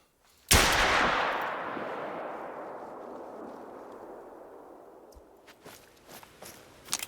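A single loud rifle shot fired at a blackbuck in the hunting game theHunter: Call of the Wild, a sharp crack followed by a long rolling echo that fades over several seconds, with a few faint clicks near the end.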